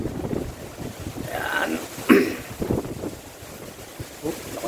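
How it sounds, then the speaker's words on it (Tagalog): Strong gusts from Typhoon Kristine buffet the microphone in Tagaytay near Taal Volcano, with rough bursts of wind noise that swell and ease, and someone speaks briefly over the roar. "Lakas ng hangin."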